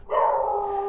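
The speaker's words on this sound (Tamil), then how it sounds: "நாய் வேறு குலைக்குது." A dog barks out on a Chennai street at around 2 a.m., one loud, drawn-out, yelping bark that carries close and clear for about a second.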